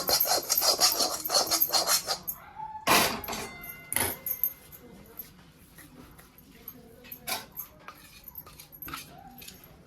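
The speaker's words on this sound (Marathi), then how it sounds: "सगळं मिश्रण ह्या तूप टाकलेल्या ताटामध्ये काढून घ्यायचं" A hot sesame mixture is scraped out of a pan onto a plate greased with ghee. Rough scraping strokes come in quick bursts at first, then grow sparser with scattered clinks and rubs.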